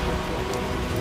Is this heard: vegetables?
no